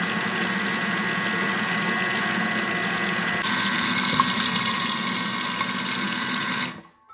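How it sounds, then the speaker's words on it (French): Oil runs in a steady stream over the lid of a Thermomix as it mixes mayonnaise, a constant liquid pouring hiss over the machine's motor hum, brightening midway and then stopping abruptly. "en faisant couler l'huile sur le couvercle"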